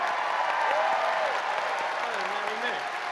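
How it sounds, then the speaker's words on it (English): Audience applause for Lucasfilm Animation staff at a Star Wars Celebration fan convention, a large crowd clapping steadily and fairly loudly, with a voice talking over the applause. "stand up, because you deserve a round of applause"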